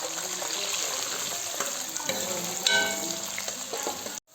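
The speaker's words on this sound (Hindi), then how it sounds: "अब प्याज को हम लोगों ने तब तक फ्राई करना है जब तक इनका कलर गोल्डन ना हो जाए" Chopped onions and cumin seeds sizzle steadily in hot oil in a pan, a dense continuous frying hiss with small crackles and a brief louder stir, close and alone before cutting off abruptly at the end.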